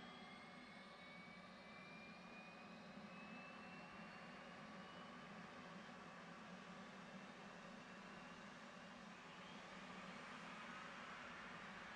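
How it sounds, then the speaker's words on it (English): Low steady roar of an aircraft jet engine starting up in DCS World, a faint continuous drone with a slowly rising whine, with no pauses or talk. "Engine's coming alive."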